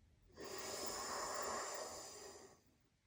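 A single long, deep inhale through the nose during a breathwork exercise, a close, airy rush of breath that swells for about two seconds and then fades, with no talking.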